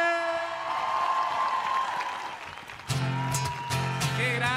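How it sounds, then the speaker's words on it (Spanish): Audience in a telethon theatre applauding for a sign-language performer, a dense steady wash of clapping and crowd noise, with music and a voice coming in partway through. "Quiero que recibas con un fuerte aplauso al hombre de la noche"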